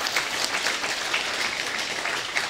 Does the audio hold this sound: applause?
yes